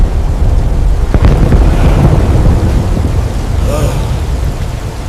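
Steady, dense rain pours down with a low thunder rumble under it. A brief crack comes near the one-second mark. The roar is loud and unbroken throughout, with no voices.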